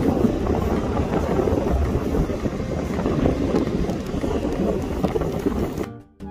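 Strong, steady wind roars and buffets the microphone without pause on the Vale of Glamorgan coast near Ogmore, then cuts off abruptly near the end.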